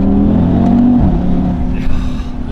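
A 2019 Audi TT RS Roadster's 5-cylinder engine revs and pulls hard on an Alpine mountain road, loud and close, its harmonic note rising and then dropping sharply as the gear changes and the drone carries on.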